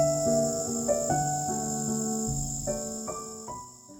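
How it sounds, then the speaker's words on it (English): A high, steady insect chirring hums continuously under a soft melodic pattern of sustained tones, with no voices. "The crickets serenade us to sleep like a little orchestra"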